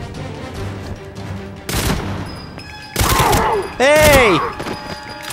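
Shotgun blasts in GoldenEye 007 for the Wii: three heavy booms spaced over a few seconds, each with a ringing, bouncing tail, amid background game music, effects and a shouted voice.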